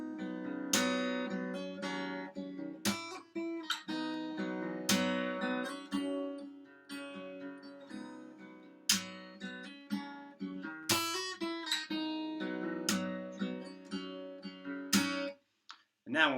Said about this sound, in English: The idea is that you slap with your thumb, and then you flick out with your finger at the same time and hit a string.